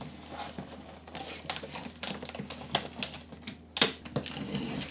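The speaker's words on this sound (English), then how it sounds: "Let's close it up and then tape it up." Packing tape pulled and pressed onto a cardboard box holding a flipped gaming PC, with repeated short ripping and rubbing bursts, close and fairly loud, including one sharp tearing screech.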